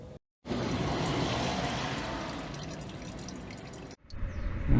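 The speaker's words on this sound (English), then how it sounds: "we've got the last few drips coming out of that now" Old, dark gearbox oil from a Volvo XC90 with torque converter shudder trickles and drips from the drain into a catch container, a steady close liquid patter with a brief pause.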